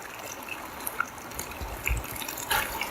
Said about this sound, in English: where the water is bubbling up from the bottom.